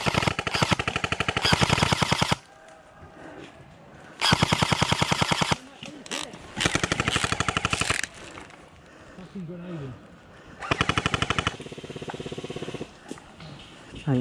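Airsoft guns fire rapid full-auto bursts during an outdoor airsoft game, loud and close, in several long strings separated by short pauses, with players shouting in the gaps.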